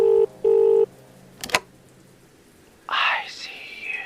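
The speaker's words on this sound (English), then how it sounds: "Audio anomalies, phones ringing, pianos playing on their own." A telephone rings as an audio anomaly in an indie horror video game. Two short electronic ring tones sound close and clear, followed by a sharp click and then a whispering voice.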